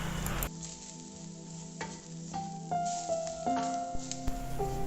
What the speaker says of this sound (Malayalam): പൊടികളുടെ പച്ചമണം മാറുന്ന വരെ ഒന്ന് നന്നായി വഴറ്റി കൊടുക്കുക